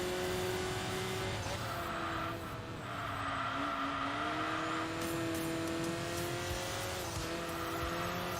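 A Saab racing car engine in the video game Enthusia Professional Racing drones steadily at high revs, holding a constant pitch with slight rises and dips through gear changes, continuous and close.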